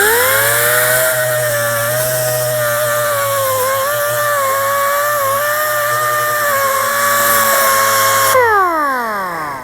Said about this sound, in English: So that's just a single action grinder.